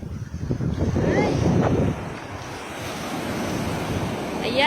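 Ocean surf rolls in at Baler, Aurora, with waves washing steadily against a wind-buffeted microphone; a voice briefly sounds over the water early on.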